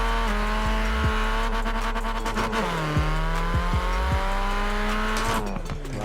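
Vauxhall Corsa VXR launching hard in Forza Horizon 4, engine revving high and steady with squealing, slipping tires through first gear, then a shift and the pitch climbing again.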